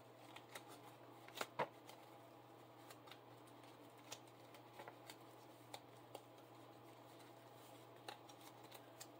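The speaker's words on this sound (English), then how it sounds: "let's shuffle our cards up just a little bit." Playing cards being shuffled up close, a soft steady riffling with several sharper snaps and flicks over a faint hum.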